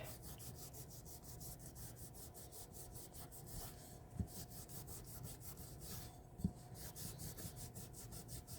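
A brush scrubs chalk paint into a silicone mold with fast, steady back-and-forth rubbing strokes, close and continuous, with a couple of sharp taps partway through.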